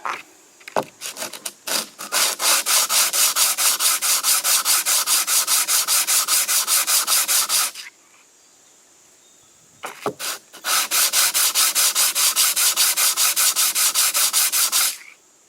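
A semi-metallic emergency brake pad for a Polaris Ranger is ground down in rapid, rhythmic rasping strokes, two long bursts separated by a short pause, loud and close with no talk.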